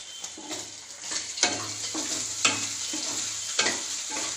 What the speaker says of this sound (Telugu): బాగా ఫ్రై చేసుకోండి, లేదంటే ఎగ్ నీసు వాసన వస్తుంది.